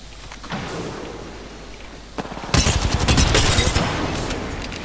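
Gunfire in the video game Apex Legends: scattered shots at first, then a loud, rapid burst of automatic fire that continues to the end, close and dominant, with no voices.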